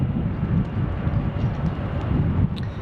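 An airliner jet at Salt Lake City airport gives off a steady, loud broadband roar, dense in the low range, with no break across the short stretch.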